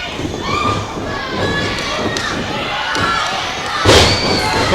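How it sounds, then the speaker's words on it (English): A wrestler is slammed onto the mat at a tag team match, with thuds and slams over a noisy, cheering crowd and a sharper impact near the end. "But Bryan slamming him down to the mat."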